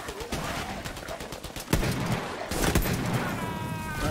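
Shotgun fire in Tiny Tina's Wonderlands: loud, close blasts cut through dense, continuous game noise, with a sharp burst near the middle.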